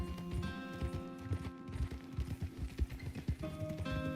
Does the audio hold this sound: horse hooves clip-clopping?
yes